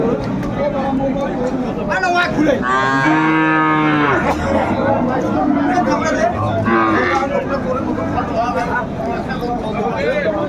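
Cattle at a busy livestock market, where one loud, drawn-out moo rises close by, followed by a shorter call, over constant crowd babble and people talking.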